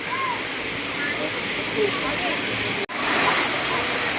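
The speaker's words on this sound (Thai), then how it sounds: "บริเวณนี้นะฮะที่นักท่องเที่ยวมาเล่นน้ำตกกันนะครับ" Steady rushing water at Sai Yok Noi waterfall in Thailand roars continuously, loud and close, with a brief dropout near the end before the torrent resumes.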